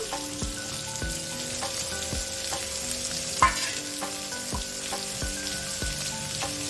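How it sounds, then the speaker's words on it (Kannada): Onions, green chillies, garlic, dried red chillies and curry leaves sizzle in a pan for a cluster bean stir-fry, a steady crackling fry with regular scraping stirs and one sharper clank midway. "ಈರುಳ್ಳಿ ಎಲ್ಲ ಸಾಫ್ಟ್ ಆಗೋವರೆಗೂ ಫ್ರೈ ಮಾಡ್ಕೊಳ್ಳಿ"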